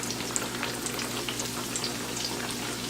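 Thin eggplant slices fry in a single layer in a pan on a stovetop, giving a soft, steady sizzle with scattered light pops throughout.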